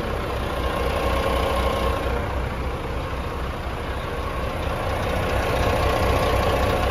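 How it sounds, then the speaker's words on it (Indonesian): A Volvo B11R 450 HP engine in a tronton tri-axle bus idles steadily, a close, even, smooth rumble with a constant low drone and no voices. "Dan ini suara mesinnya ini coba halus ya."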